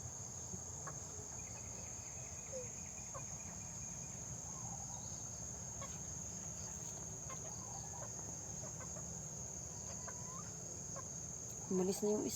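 Native chickens cluck softly in the background of an early-morning yard, under a steady, loud chorus of crickets that fills the whole stretch, with a brief louder bump near the end.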